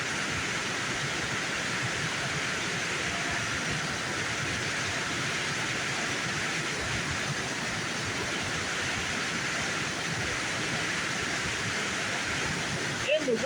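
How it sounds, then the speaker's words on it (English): A waterfall on a river among rocks and spring snowpack gives a steady, broad rushing roar that stays even throughout, with a person speaking faintly over it. "And there's the waterfall."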